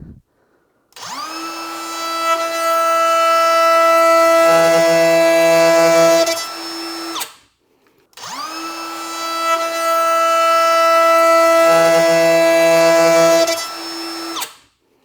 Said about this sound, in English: let's just line this up and give it a go, and I'll show you how this thing routes